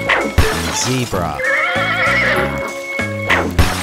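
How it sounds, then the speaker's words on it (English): A zebra gives a loud, wavering horse-like whinny over busy cartoon music, with sharp crashing and clattering effects around it. "Zebra."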